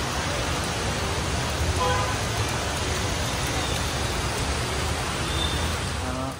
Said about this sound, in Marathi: बाहेर एवढा पाऊस आहे, जोरात पाऊस, सगळीकडे अंधार.